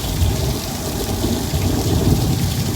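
Heavy rain pouring down during a sudden storm, a loud continuous hiss and drumming with a deep low rumble underneath, steady and close with no voices.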